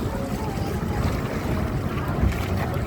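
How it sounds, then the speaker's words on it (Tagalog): Strong wind buffets a small passenger boat at sea, a steady roaring rush with gusty microphone thumps and a low rumble of water and engine underneath. "Lakas ng hangin."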